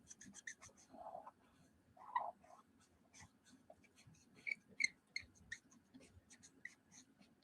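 Marker tips scratch and squeak across coloring-book paper in short, close strokes, quiet and irregular, with small pauses between bursts of coloring.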